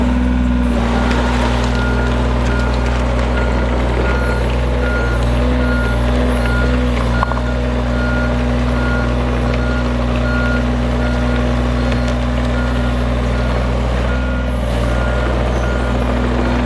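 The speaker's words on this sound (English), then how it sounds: "Let's go see if the excavator fits in." An excavator rolls in toward an A-frame storage shed with a loud diesel engine rumble and a steady, repeating reversing beep that runs throughout, close by, with no talking.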